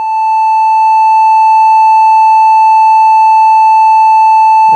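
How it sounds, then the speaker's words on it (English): A self-oscillating DIY modular low pass filter, tuned to about 1 kHz, produces a steady, loud, sine-like tone that holds unbroken and close for several seconds. "Sounds like a nice sine wave or triangle wave."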